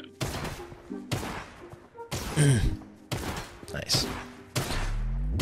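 Rapid bursts of gunfire from Fortnite Zero Build crack out repeatedly in quick clusters, mixed with game effects, while a person speaks briefly over them.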